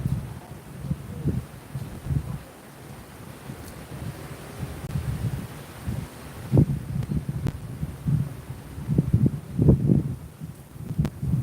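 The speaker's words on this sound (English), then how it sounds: "No, it's too windy." Gusty wind buffets the microphone in rumbling bursts that swell and fade, louder toward the end, with occasional faint clicks.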